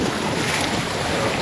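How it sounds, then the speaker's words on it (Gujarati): Sea waves wash in against the shore at Diu jail, a steady roar of surf mixed with heavy wind buffeting close to the microphone, continuous throughout and without talk. "આ જો ખાલી આવી રીતના છે ને મિત્રો મોજા આવે છે"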